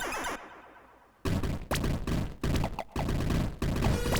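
Rapid gunfire from shooting enemies in the twin-stick arcade shoot 'em up Eugatron, loud, dense bursts separated by brief gaps, starting after a quieter opening with a short silent stretch.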